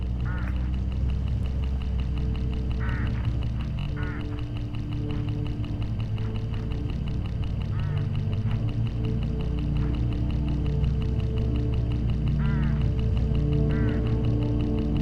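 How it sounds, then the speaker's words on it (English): Hooded crows along a rural road in the video game Hitchhiker give short, harsh calls in brief separate bursts, set against a steady low hum and an ambient music bed. "Look! Hooded crows all along this road."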